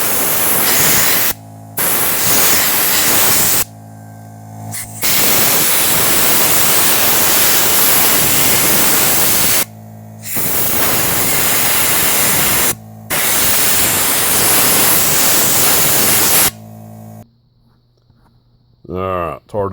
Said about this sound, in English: I like to use an air compressor to blow all the excess oil out.